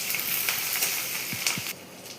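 Chopped onion, ginger, garlic and tomato fry in cumin-tempered oil for tarka dal, a short, even sizzling hiss heard close up with a couple of faint stirring knocks.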